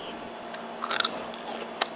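Crispy golden fried potato snacks are bitten with a few sharp, close crunches, single snaps followed by a brief cluster of chewing crackles against a quiet background.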